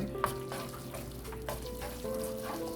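A quiet, steady sizzle of instant spaghetti noodles stir-frying in a pan, with occasional soft stirring and scraping sounds.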